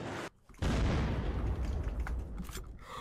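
Rocket blasts in the survival game Unturned: a short gap, then a heavy booming explosion that rumbles and crackles on, loud and close, with faint later bursts, no voices.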